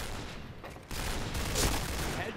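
SG-550 rifle gunfire in the shooter game Point Blank, a dense burst of rapid shots after a short gap, steady and loud, with no voices.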